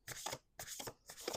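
Three quick, soft papery bursts of oracle cards being shuffled, close by with no talking.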